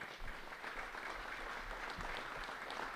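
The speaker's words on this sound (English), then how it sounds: "And a round of applause for Lieutenant Reynolds and your team." Faint, steady applause from an audience at a grand opening ceremony for a regional investigative operations center, continuing evenly without pause.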